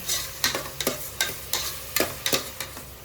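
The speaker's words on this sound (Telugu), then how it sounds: "ఇదిగోండి ఉల్లిపాయలు అయితే వేగిపోయినాయి చక్కగా" Onions for a farm-chicken curry frying in a pan, a soft steady sizzle beneath regular spoon scrapes and clinks repeating about every third of a second, close and without talk.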